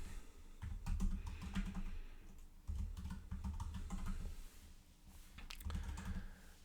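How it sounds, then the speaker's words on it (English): Keys clack in steady bursts on a computer keyboard as a place name in Leicester Square, London, is entered, with short pauses between runs of typing and no voices. "So let's type that out."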